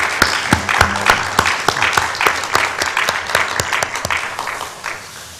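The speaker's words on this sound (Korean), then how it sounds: "수고하는 분들을 위해서 우리 박수 한번 칠까요?" Church congregation at a Wednesday dawn worship service applauding the volunteers, a steady round of clapping with distinct individual claps, moderately loud and close throughout, no talking.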